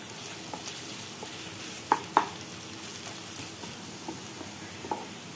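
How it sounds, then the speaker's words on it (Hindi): Chopped onions frying in oil until brown for a jackfruit sabzi, a quiet continuous sizzle with a few sharp spatula clicks and stirring knocks scattered across the pan. "इसमें डालेंगे हम प्याज जो हमने कट करके रखी थी, इसको हम ब्राउन होने देंगे।"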